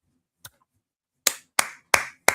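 Sparse, sharp claps from a small audience at a community talk, one isolated clap followed by four distinct, evenly spaced claps, close and crisp with silence between.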